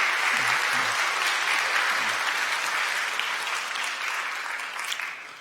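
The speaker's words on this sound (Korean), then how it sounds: "여러분들 환영의 박수 부탁드립니다" Sustained applause from a church congregation during a Sunday worship service, welcoming a young member back from military service; steady dense clapping fills the room throughout, fading slightly toward the end.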